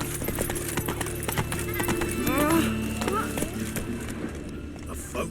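Hooves of Roach, a horse in The Witcher 3, clip-clop in a quick steady rhythm, close and clear, with a brief whinny midway and a voice talking over the game sound.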